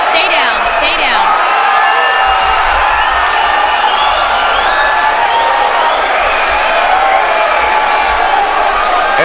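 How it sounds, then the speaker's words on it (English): Loud fight crowd at a Shooto event cheering and whooping in a standing ovation after Rick Davis's knockout of Nick Ertle Jr, a dense continuous roar with whistles and shouts throughout, no break in the noise. "That's what this crowd came to see tonight. A standing ovation."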